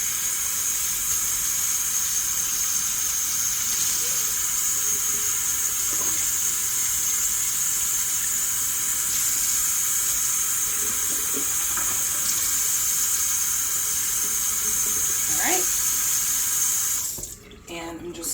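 Hot tap water runs steadily into a kitchen sink, a loud continuous hissing splash that holds evenly for a long stretch before being shut off at the end.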